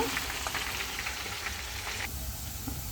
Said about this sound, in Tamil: பீன்ஸ் அங்கால பொரியுது